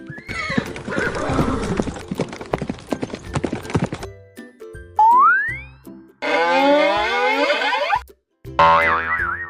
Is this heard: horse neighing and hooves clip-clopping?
yes